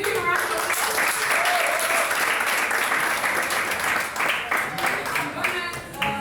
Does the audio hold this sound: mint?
no